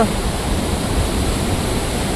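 Loud, steady roar of rushing water, a dense continuous wash of noise from a big river flowing close by.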